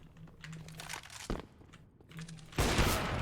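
Sniper rifle fire in a first-person shooter game, with a few sharp loud cracks spaced apart and a heavy burst near the end, over steady game noise.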